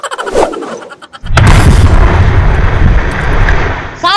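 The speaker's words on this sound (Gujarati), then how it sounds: "એ કાણિયા ભાઈ તમારા હાથમાં બોમ્બ છે" A bomb goes off in a rural Gujarati dacoit comedy skit: a sudden loud boom after a few brief sounds, then a heavy rumbling roar that holds for nearly three seconds.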